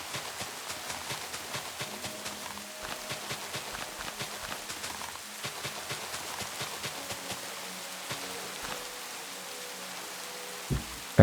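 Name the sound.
rain falling in Minecraft video game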